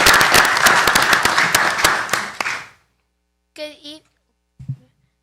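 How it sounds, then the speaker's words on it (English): Dense applause and clapping from a crowd at a city council meeting for about three seconds, then it stops; a few brief voice fragments follow in the quiet. "Let's give her a big round of applause to join us."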